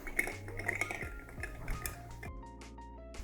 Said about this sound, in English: We're gonna take our nice big rock of ice and a spoon and stir it down.